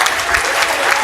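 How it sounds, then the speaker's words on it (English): A conference audience at a tech summit in the Bahamas breaks into loud, sustained applause, dense clapping from a large crowd filling the whole brief moment. "Give yourself a round of applause, good job."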